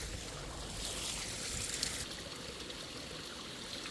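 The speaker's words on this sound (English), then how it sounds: "So this is how the water stream work in mountains." A mountain stream flows steadily over rocks, a continuous close rushing and trickling of water with no voices, holding an even level throughout.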